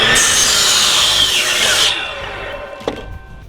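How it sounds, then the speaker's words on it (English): A miter saw cuts 45-degree angles into wood for a home-built power rack, a loud continuous whine and bite through the board for about two seconds, then winding down, followed by a brief knock. "The nice thing about having a miter saw is you can make 45-degree angled cuts."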